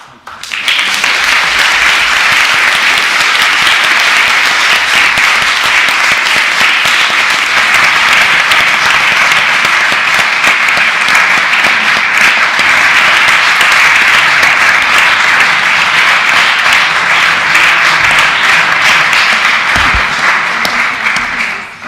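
Sustained applause from a large audience, dense and steady clapping at full volume for over twenty seconds, tapering off at the very end.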